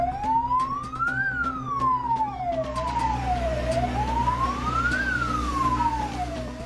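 A fire engine siren wails loudly and close, rising and falling in a slow sweep, at a burning market with several fire trucks responding, over a steady engine and traffic rumble.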